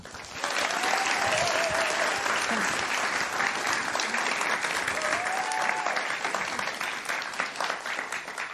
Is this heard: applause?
yes